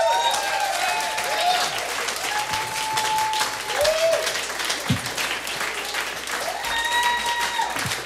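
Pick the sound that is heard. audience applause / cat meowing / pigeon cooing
audience applause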